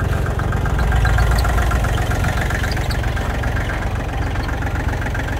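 A small tractor engine idles steadily and loudly up close, with a continuous low rumble and rhythmic knocking throughout and no talk.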